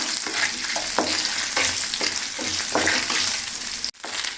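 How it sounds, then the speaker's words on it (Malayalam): Coconut pieces sautéing in melted ghee, a steady close crackling sizzle with repeated scrapes and stirs of a spoon at roughly half-second intervals, briefly cut off near the end, no voices. "നമുക്കിതിലേക്ക് ഒരു രണ്ട് സ്പൂൺ തേങ്ങാക്കൊത്ത് ചേർത്ത് കൊടുക്കാം ചെറിയ രണ്ട് സ്പൂണാണ് ഒന്ന് വഴറ്റിയെടുക്കാം"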